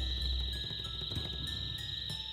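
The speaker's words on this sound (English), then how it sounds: "Nothing like them desert cicadas." Desert cicadas in Tales of Vesperia drone in a continuous high-pitched shrill buzz, steady and unbroken, with a low rumble of game ambience underneath.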